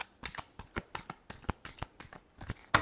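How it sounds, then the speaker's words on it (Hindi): A deck of tarot cards being shuffled by hand, a quick series of crisp riffling flicks and snaps in a quiet room, close and fairly soft, with a sharper slap at the end. "Last shuffle."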